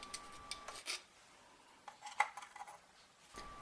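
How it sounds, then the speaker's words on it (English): Hand file working around the edges of copper jewellery pieces, heard as short, faint, close scraping strokes with small metallic clinks, separated by quiet gaps. "I'm just going to use a file and carefully work my way around the pieces."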